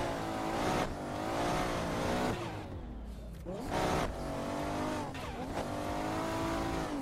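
Drift car lapping an open lot to lay out a Brazilian championship drift track, engine revving up and down in long sweeps with tires squealing through slides, passing close and fading a little between runs.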